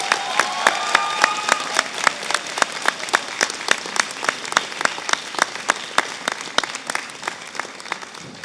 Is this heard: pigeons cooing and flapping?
no